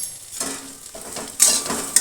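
Green chillies and rock salt being stirred in a frying pan for a vegetarian Ekadashi sabji: a utensil scrapes and clinks against the pan in short, uneven strokes over a faint sizzle, close by with no talking.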